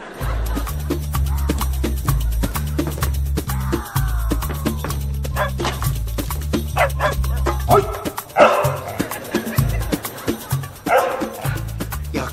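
A dog barks repeatedly in sharp, loud yips and bow-wows within a Turkish comedy series scene, with occasional whimpers. A voice talks intermittently between the barks.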